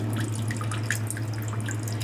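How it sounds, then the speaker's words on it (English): Water trickles from holes in a bottle feeding a wooden waterfall fountain, a continuous soft splashing with scattered light drips over a low steady hum. "it's coming down out of some of the holes, but you can see the drips on other holes"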